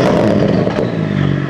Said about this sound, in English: If you push the switch, the exhaust will gets on, the valve will get open